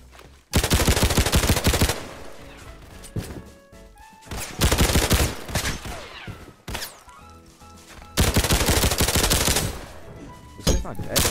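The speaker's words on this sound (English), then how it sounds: "One thing I will say about this gun, it fires super slow." Slow-firing gun in the Roblox game Criminality, shooting in three loud, spaced bursts of dense broadband blasts with quieter gaps between them, no talking.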